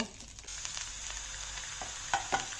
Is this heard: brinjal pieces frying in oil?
yes